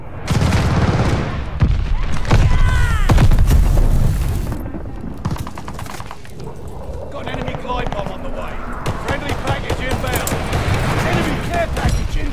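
Video game combat around a glide bomb strike: loud booms and rumbling blasts with volleys of gunfire, overlaid by voices talking throughout.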